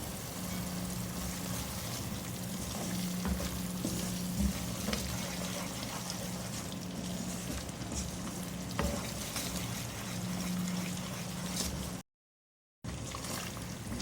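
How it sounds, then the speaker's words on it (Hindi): Spice masala sizzling in a pan for chandan kofta curry, a steady low frying hiss with faint stirring clinks, close and continuous for several seconds before a brief dropout. "अब इसकी अच्छी सी भुनाई करूंगी।"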